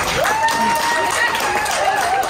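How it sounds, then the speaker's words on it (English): Applause and cheering from a small group during a music video shoot, steady and close, with a voice whooping over the clapping. "Just a round of applause."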